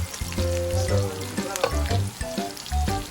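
Meat stirred and sautéed in a hot pan gives off a steady, close sizzle. Scraping stirs come through at irregular moments, and nobody speaks.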